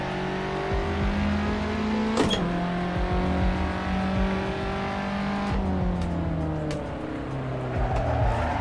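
A car in the Assetto Corsa racing game pushes wide through a corner on a night mountain touge road, engine droning and pitching up and down while tires squeal and skid in long smeared bursts.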